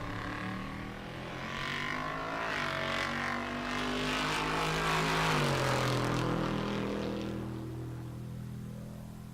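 A supercharged LS-powered drag race car runs on the track at Pueblo Motorsports Park in Colorado. Its loud, sustained engine roar climbs in pitch, holds, then eases slightly, with no voices over it.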